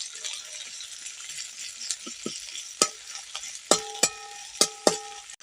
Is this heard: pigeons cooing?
no